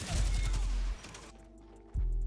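Video game gunfire comes as a rapid burst of close shots that cuts off, then a single heavy report follows after a short pause.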